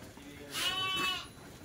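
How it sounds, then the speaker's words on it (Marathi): A goat bleats once, a wavering cry from a herd of goats being sold and loaded for transport, fairly close and clear over quiet background noise. "अजून बघा एवढ्या शेळ्या आहेत"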